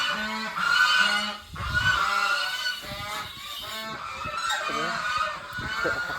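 Several farm geese honk loudly and repeatedly at close range in a shed, a noisy overlapping chorus with squawks and other animal sounds mixed in.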